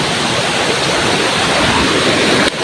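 A stream flows in a steady, loud, close rush of broadband water noise that holds evenly throughout, with no voices.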